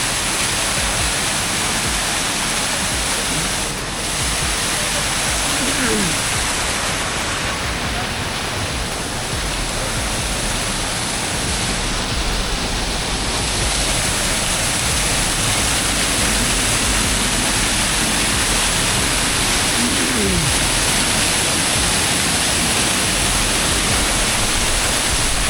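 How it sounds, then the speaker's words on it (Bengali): A waterfall at Rock Garden in Darjeeling pours with a dense, constant roar of rushing water, loud and unbroken from start to finish. "এটা হচ্ছে ঝর্ণা এখানকার"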